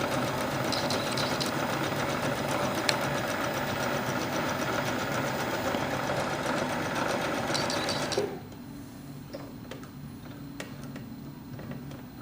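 Sewing machine stitching along the edges of a fabric bag, a steady close mechanical whir that runs for about eight seconds and then stops, leaving a quiet room.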